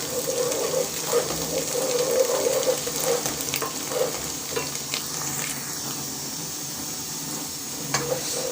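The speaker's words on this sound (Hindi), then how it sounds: "प्याज जो है वो हमारी ग्राइंड हो गई है। अब हम इसे अच्छी तरह से भून लेंगे।" Ground onion paste frying in a pan, a steady sizzle with stirring scrapes and a few clinks, louder early and settling toward the end, no talking.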